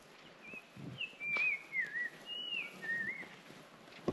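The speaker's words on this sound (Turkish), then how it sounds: "Bir daha yap kuş bey lütfen." A bird whistles a series of short, clear, slightly sliding notes against a quiet background in a village without electricity, moderately close, with brief pauses between phrases.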